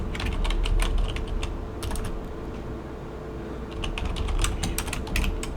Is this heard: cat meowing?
no